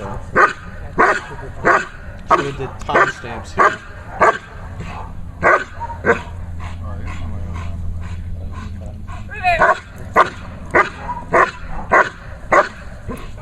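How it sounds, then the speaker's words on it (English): A protection dog barks at an agitator during a bark-and-hold training exercise, loud close barks repeating in a steady rhythm about once a second, with someone talking in the pauses. "What the dog is learning in this exercise is to not touch the agitator during the bark and hold."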